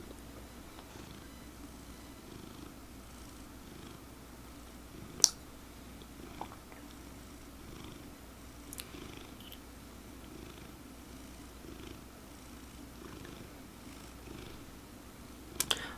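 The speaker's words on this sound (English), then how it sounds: "you guys saw that cat that was eating the corn" A cat purrs softly and steadily while eating corn, a faint low rumble running throughout, with a few sharp crunching bites and small clicks breaking through now and then.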